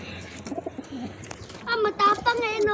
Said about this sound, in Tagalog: Andito din po yung kalapati niya.